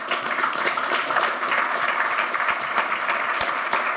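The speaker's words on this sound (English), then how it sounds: "Let's give my panel a round of applause" Conference audience applauding a panel at a financial-crisis plenary session, a steady dense patter of many hands clapping throughout, fairly far off in a large hall, with no talking.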